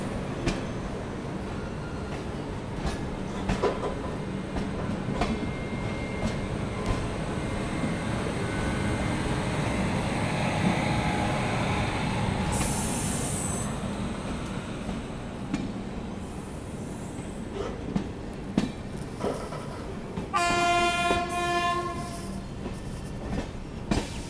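A train rolls alongside through an overtaking stretch on the Yesvanthpur–Howrah Duronto journey, a long steady rumble with scattered rail clicks and knocks, swelling midway and ending in a brief high tonal whine, no voices heard.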